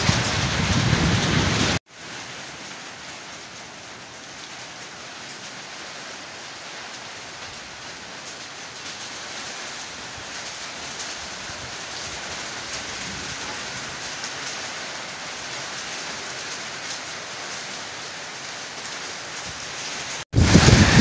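Heavy rain pours down steadily with strong wind, a dense, continuous roar of rain on surfaces during a storm in a village, loud and unbroken, with no talking.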